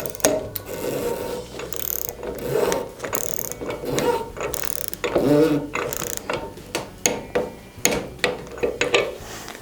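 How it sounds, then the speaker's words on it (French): A torque wrench tightens the bearing on a Saint-Gobain PAM Euro 20 New valve to 250 Nm, giving a close, continuous run of rapid ratcheting clicks that comes in uneven bursts, with no voices. "On utilise donc une clé dynamométrique."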